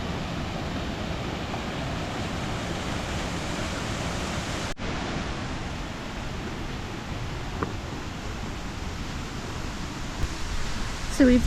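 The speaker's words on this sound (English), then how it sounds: "There is a waterfall that's just there on the left hand side." Steady broadband rush of a waterfall beside a river in the Lake District on a wet, windy walk, continuous and fairly loud throughout with no talk.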